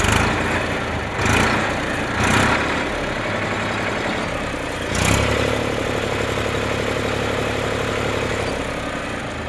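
A Massey Ferguson 7250 DI tractor diesel engine idles close up, a loud steady throbbing rumble with mechanical clatter and a few brief surges, no talking.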